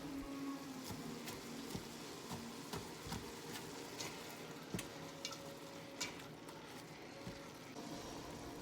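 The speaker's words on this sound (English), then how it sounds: "just stirring that in and letting the beef cook and brown before I add the rest of the ingredients" Ground beef and onions browning in a frying pan, a steady sizzle running throughout with scattered scraping and clicking taps as a utensil stirs them, no voices over it.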